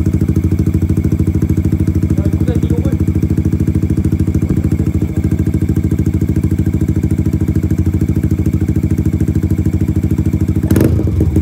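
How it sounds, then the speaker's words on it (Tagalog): A motorcycle fitted with a 51mm Akrapovic exhaust pipe idling steadily, a loud close rhythmic engine putter that holds even throughout, with a brief clatter near the end. "Yan yung idle guys."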